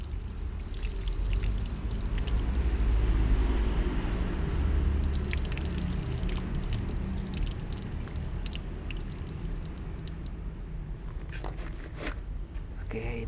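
Water is poured over peanuts to rinse them in a kitchen, making a continuous splashing gush that stays fairly steady throughout, with small clatters mixed in.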